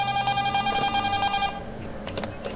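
A telephone rings in the horror video game Five Faithful Nights at Whitney's, a steady electronic ring that runs strongly for about a second and a half, then fades into quieter game ambience.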